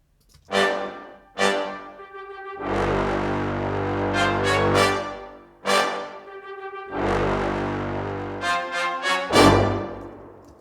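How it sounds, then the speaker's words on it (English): Orchestral brass section of bass trombones and trumpets playing pirate-style music, loud sustained chords broken by sharp accented stabs, full and close, no voices. "So altogether the brass sounds like this."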